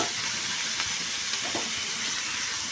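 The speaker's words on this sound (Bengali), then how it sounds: "এবার পেঁয়াজের মধ্যে ফুলকপি আলুকে একসাথে ভালো করে নাড়াচাড়া করতে হবে" Cauliflower and potatoes stir-fried with onions give a continuous, close frying sizzle with a few faint scrapes of stirring, without any voices.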